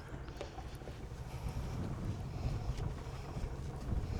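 Wind blowing around a canal narrowboat, heard as steady low buffeting rumble and gusty noise against the microphone with no voices.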